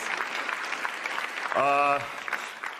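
Scattered clapping from an audience at a spoken-word poetry performance runs under the moment, with a brief sustained voiced tone cutting through partway before the patter continues at a modest level.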